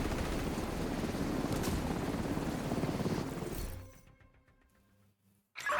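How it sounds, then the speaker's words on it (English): A video game helicopter roars with a dense, loud rotor wash for about four seconds, then fades out abruptly into near silence before a short burst returns at the end. "Get to the chopper!"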